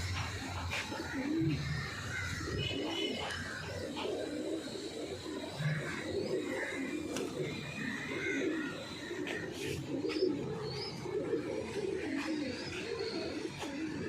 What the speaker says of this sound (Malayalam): എഡിസണിൻ്റെ പ്രാവാണ്.